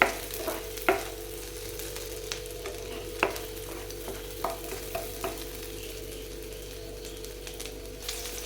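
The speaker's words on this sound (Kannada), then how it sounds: "ಇವಾಗ ಮೆಣಸು ಫ್ರೈ ಆಗ್ತಾ ಉಂಟು ನೋಡಿ" Green chillies frying in hot oil in a home kitchen pan, a steady low sizzle with occasional sharp pops and stirring clicks throughout.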